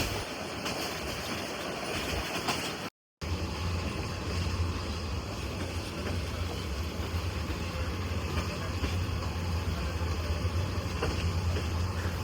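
A Tista Express passenger train runs on the Dhaka to Dewanganj line, heard from inside as a steady, loud rumble with continuous rattling. It continues for the whole stretch, broken once by a brief dropout.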